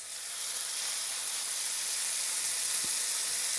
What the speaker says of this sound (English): And we're throwing it in the bacon grease that I have heating up.